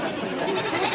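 Goats bleating as a radio comedy sound effect, a continuous wavering chorus of bleats held steady and fairly loud for a second, with no talk.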